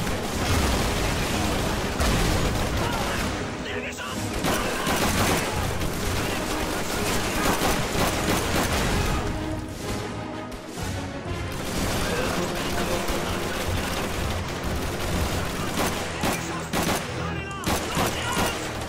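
Dense, nearly continuous gunfire and explosions from Call of Duty 3 on a night drop mission, loud and chaotic with rapid shots and crashes, while a player shouts over the battle.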